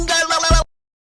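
A robot sound effect: a clipped, harmonically rich electronic buzz running about 0.6 seconds, closing with a low thud before silence.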